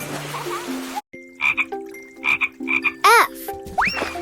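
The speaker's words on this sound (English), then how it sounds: "F is for frog." Cartoon frog croaks in a children's ABC learning game, several short bright croaks spaced across a few seconds over light game music, ending with a rising boing-like chirp.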